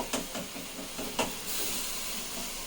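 Tomatoes sautéing in a pan for fish curry, a steady hiss of sizzling with a few soft clicks at the start, close and moderately loud with no talk.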